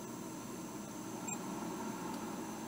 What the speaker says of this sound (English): See, there's a beep when I touch them together.